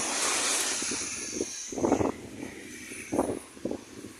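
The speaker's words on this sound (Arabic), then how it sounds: "كاين الريح بزاف الاخوان والله الا كاين الريح" Strong wind roars and buffets the microphone in rough gusts during flooding in Morocco, with a few muffled thumps.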